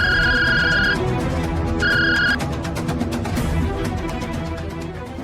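A phone ringtone sounds during an outgoing call in a drama scene: two clear ringing bursts with a pause between them, over a steady background bed.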